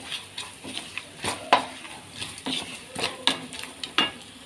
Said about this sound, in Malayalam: എന്നിട്ട് നല്ലവണ്ണം ഇളക്കുക